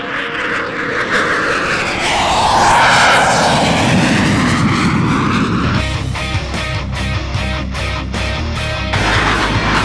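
An Su-30 MKI fighter jet roars overhead at an air show, a loud engine rush that swells as it passes close and then settles into a rumbling, pulsing drone.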